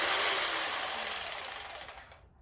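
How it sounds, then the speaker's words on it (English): A jigsaw with a fairly sharp blade cuts through plate steel, giving a loud, harsh buzzing rasp up close that slowly dies away and stops after about two seconds. "We have our jigsaw."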